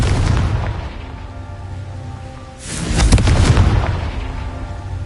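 A Confringo fire spell detonates in Hogwarts Legacy, a loud booming blast that swells around the midpoint and rumbles on over ongoing game ambience.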